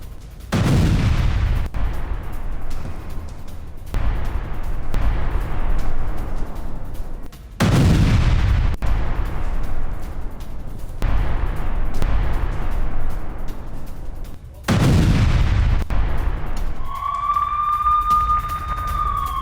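Heavy gunfire and bombardment near Al-Quds hospital in Gaza, a series of loud, close booming blasts every couple of seconds, each with a long rumbling decay, and a brief whistling tone near the end.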